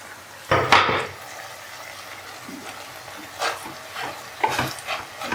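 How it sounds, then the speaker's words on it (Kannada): Fenugreek leaves go into a pan with softened tomato and are stirred and fried, giving soft sizzling with intermittent scraping and clattering stirring strokes close by. "ಇವಾಗ ಸೊಪ್ಪು ಹಾಕ್ಕೋತೀನಿ. ಸೊಪ್ಪನ್ನ ಚೆನ್ನಾಗಿ ಫ್ರೈ ಮಾಡ್ಕೋಬೇಕು"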